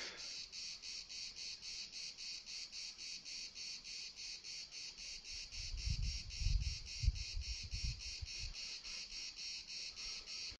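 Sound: cicadas singing in a Crimean bay

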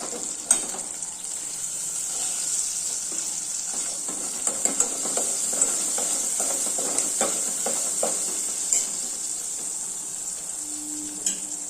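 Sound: onions and spices frying in oil

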